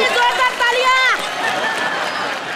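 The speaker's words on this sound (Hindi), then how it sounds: "जोरदार तालियां।" A studio audience at a comedy show bursts into loud applause, with a sustained wash of clapping spreading under and after a rising shout from the crowd.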